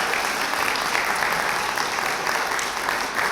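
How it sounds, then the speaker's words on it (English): An audience at the 2015 Gender & Social Change Awards applauds, a sustained, even wash of many hands clapping in a room. "So if we can give a quick round of applause."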